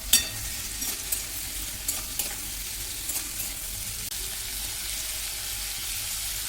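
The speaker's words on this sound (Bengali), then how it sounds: "এবার পরিমাণ মতো নুন আর হলুদ দিয়ে সবজিটা প্রথমে একটু হালকা করে ভেজে নেবো" Vegetables fry lightly with salt and turmeric for dalia khichuri, a soft steady sizzle with a few light scraping stirs near the start, fairly quiet and close, no voices.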